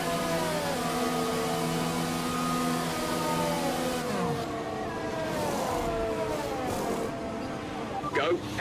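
Racing car engine in a video game pit stop on lap 8 of 13, a steady sustained whine with pitch sweeps as it revs and pulls away, loud and continuous under someone talking.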